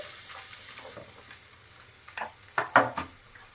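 Carrot pieces fry in oil with asafoetida and turmeric, a soft steady sizzle that swells into louder crackling bursts as the pieces are stirred near the end.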